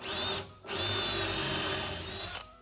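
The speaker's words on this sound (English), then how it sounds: "now I use the bigger size of the drill bit just to open the dowels and open space here" A power drill with a larger bit bores through the wooden pinblock of a grand piano to open dowel holes, a steady loud whine in two bursts separated by a brief pause, with a rougher grinding surge as the bit bites.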